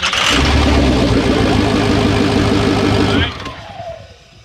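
A 6.0 L engine with a stuck-shut valve cranks with a fast, rhythmic starter chug for about three seconds, then cuts off abruptly, leaving a falling whine and quieter background, with someone speaking.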